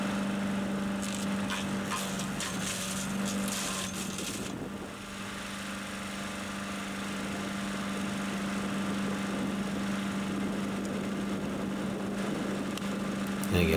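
A Harbor Freight wood chipper's small engine runs below full power, a steady droning hum with a fairly constant pitch and occasional clatter, at moderate distance.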